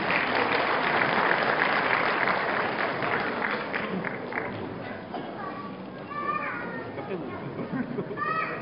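Audience applause at a university graduation ceremony in a large hall: dense, loud clapping from many people that slowly thins out, with voices and a few calls rising toward the end.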